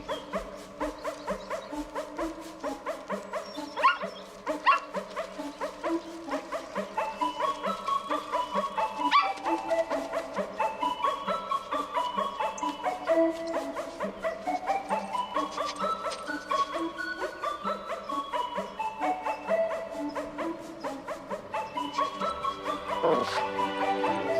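Small dog yipping and barking repeatedly as a theme-song melody from the 1989 film The 'Burbs plays over it, barks and whimpery yips scattered through steady music, fairly close and clear.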